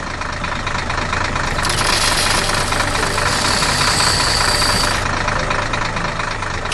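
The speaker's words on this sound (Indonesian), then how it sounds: "Sementara itu, traktor hijau sibuk menanam benih baru ke dalam tanah agar tumbuh" A green tractor's engine runs steadily while it plants seeds in soil, a loud, close, continuous rumbling drone with a rough knocking texture and no voices.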